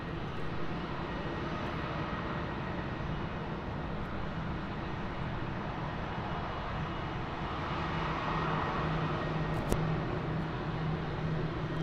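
An Aer Lingus Airbus A320 taxiing at Munich Airport, a steady distant engine rumble and whine holding level throughout, broad and even with no clear peaks.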